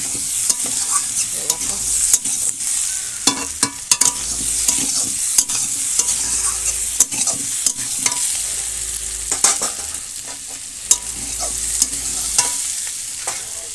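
In a village kitchen, a thick curry for a fish roe and chicken egg dish is stirred and fried, with repeated spatula scrapes and knocks punctuating a constant close sizzle, and no voices.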